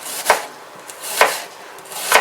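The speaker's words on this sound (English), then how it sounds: "chopping your onions, I'd say medium fineness" A knife chops a medium onion on a board for a cottage pie: three sharp, evenly spaced cuts about a second apart, close and fairly loud, with faint rustling between strokes and no talking.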